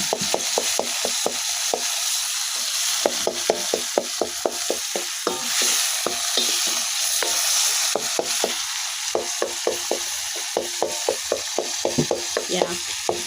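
Tomatoes fry in a pan with a continuous sizzle while a spoon stirs and scrapes in quick repeated strokes, loud and close throughout.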